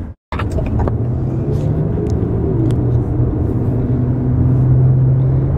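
Inside a moving car, a steady low engine and road rumble after a brief dropout at the start, with a few faint knocks and clicks in the cabin.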